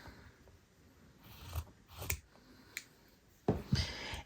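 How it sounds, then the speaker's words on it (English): Scissors trimming a fabric snowman nose for a quilted dish mat: a handful of soft, close snips spaced irregularly over a quiet room background. "Let me trim this one down here."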